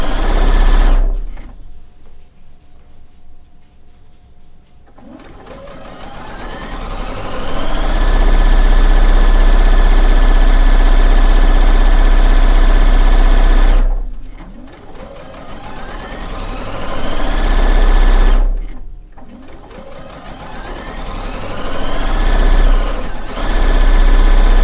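A sewing machine stitches quilt strips for a colourwerx Mod Dog quilt top, running loud and steady in long bursts with short pauses between seams.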